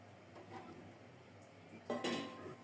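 A utensil stirs oil into a cooking pot of tangy rohu fish curry, giving soft scraping and clinking against the pot, faint at first, then a louder burst of clatter near the end.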